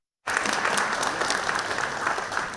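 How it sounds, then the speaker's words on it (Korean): A conference audience applauds a speaker being called to the stage at a 2020 ICT industry outlook event, a dense, steady wash of clapping that starts abruptly and holds at full strength to the end. "박수 부탁드립니다."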